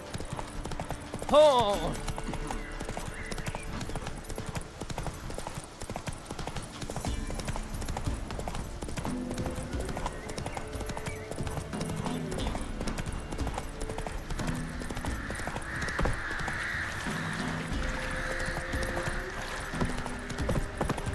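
Horse hooves clip-clop steadily at a trotting pace in The Witcher 3: Wild Hunt, with a short exclamation near the start and game music and ambience running underneath.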